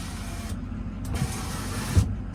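A power rear window on a 2006 Ford F250 with the 6.0 Powerstroke whirs steadily as its electric motor runs, with brief stops and restarts, close and clear with no talking.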